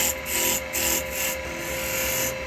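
Woodturning gouge steered on its bevel cutting wood on a lathe, a close, steady rasping scrape with a rhythmic swell as the piece spins.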